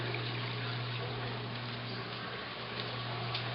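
Steady water rushing and trickling through the plumbing of a 125-gallon reef aquarium's sump, a continuous close wash with a low constant hum beneath it and no speech.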